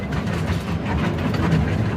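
A train ride at a Jurassic Park attraction in America rumbles along steadily, with a dense low mechanical roll and faint clattering of the cars continuing throughout with no talk.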